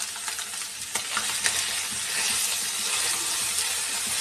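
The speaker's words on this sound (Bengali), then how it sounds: "খোসাটা আমি ভালো করে ভেজে নেব।" Bottle gourd peel frying in a pan, a steady close bright sizzle with a few sharp crackles and stirring scrapes early on, heard alone without talk.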